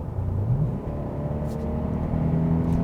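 A 2021 Kia Optima with a 1.6-liter turbocharged gasoline engine under way, a steady low engine hum and road rumble from inside the cabin with a brief rise in revs near the start.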